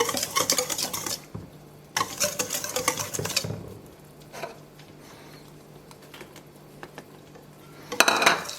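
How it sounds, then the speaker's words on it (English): A spoon stirs chopped rhubarb into custard pie filling in a bowl, giving scraping, clinking strokes in two bursts, then quieter gaps before a final sharp clatter. "Then we're going to stir in the rhubarb."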